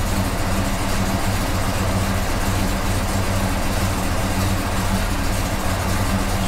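A car engine running Holley EFI fuel injection idles steadily up close, slightly lean, a continuous low rumble with a faint rhythmic pulse and no voices.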